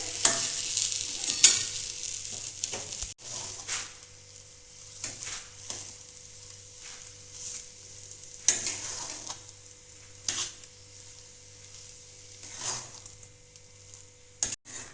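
Mashed potato filling for fuchka being mixed by hand in a pan or bowl, soft repeated squishing and scraping strokes in an uneven rhythm, close and fairly quiet, with no talk.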